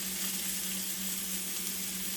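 Minute steaks fry in a pan with a steady, even sizzle, a constant hissing crackle close by with a low hum underneath and no voices.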